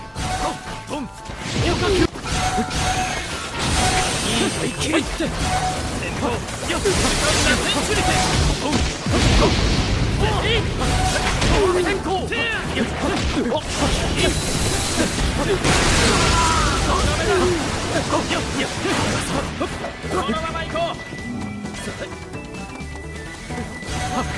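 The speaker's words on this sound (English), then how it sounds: "Quite a lot of explosions going off in that one." Jutsu explosions in the Naruto to Boruto Shinobi Striker video game, a dense run of booms, crashes and bursts with whooshes, loud and nearly continuous throughout, with game music and effects layered over them.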